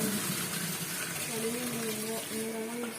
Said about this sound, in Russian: Стоп, воду сразу включи.